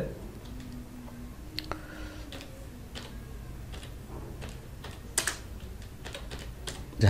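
Keys clack on a computer keyboard while text is entered in Microsoft Word, a run of light, close, irregular taps with someone talking over them.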